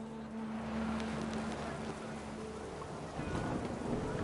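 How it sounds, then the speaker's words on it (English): Steady heavy rain pours throughout in the video game What Remains of Edith Finch, with low rumbling thunder rolling underneath and a slight swell in intensity toward the end. "The rain came down in buckets then"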